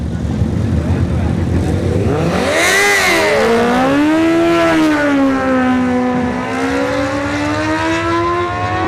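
Motorcycles hot lap at a drag strip during a test-and-tune session. One engine climbs from a low rumble into a loud, sustained high-revving wail with rising and falling pitch, close and dominant over steady background noise.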